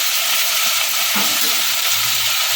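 Chilli paneer with soy sauce is stir-fried in a pan, giving a continuous loud, dense sizzle with faint stirring movement underneath, close up and steady throughout, with no voices.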